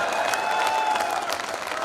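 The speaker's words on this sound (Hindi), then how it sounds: "आप लोग जोरदार तालियां बजाएं।" Audience applause at a Hindi comedy poetry gathering (hasya kavi sammelan), a dense, steady wash of many hands clapping with faint cheering, loud and continuous throughout.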